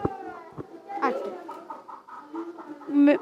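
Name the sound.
child imitating a hen clucking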